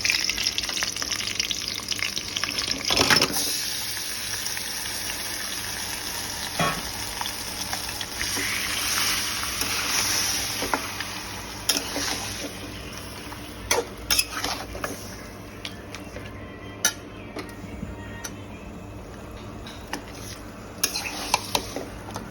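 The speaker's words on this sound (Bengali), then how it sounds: "ম্যারিনেট করা মাংসটা 1 ঘন্টা হয়ে গেছে, এবার দিয়ে দিচ্ছি।" Marinated mutton tipped into a hot pot of whole spices for biryani, with a stirring scrape, clattering utensils against metal and a soft sizzle, the busiest clatter early on, then quieter stirring and occasional clinks.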